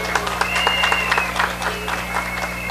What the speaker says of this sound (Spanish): Un aplauso bien grande para él.